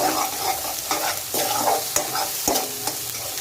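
Spice masala with tomato and onion roasting over a medium gas flame for restaurant-style matar paneer, with a steady sizzle under repeated scraping stirs and sharp spoon knocks against the pan, close and clear.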